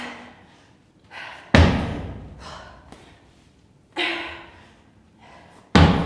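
Slam ball slammed hard onto the floor during a legs and glutes workout finisher, three loud heavy thuds spaced apart, each with a sharp impact and short decay, with breathy exhales between.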